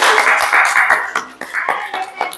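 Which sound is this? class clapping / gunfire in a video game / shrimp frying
class clapping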